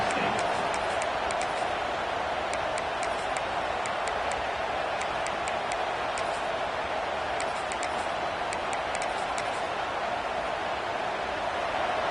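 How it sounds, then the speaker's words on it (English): Steady roar of a video game college football stadium crowd, a dense wash of noise with faint clicking ticks sprinkled over it, continuous and even throughout. "Listen to the crowd energy here in the early going."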